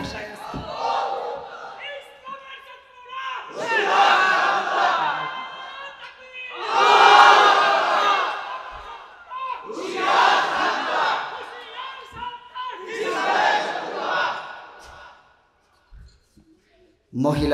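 A crowd at an Islamic sermon gathering shouts a religious chant in response to a preacher, loud massed voices rising in five long swelling waves, with brief quiet gaps between them.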